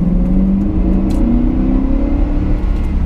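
A heavy SUV with a 6-liter engine, driven like a Yukon or short Suburban, rumbles loudly from inside the cab, the low engine drone rising slightly in pitch as it pulls steadily.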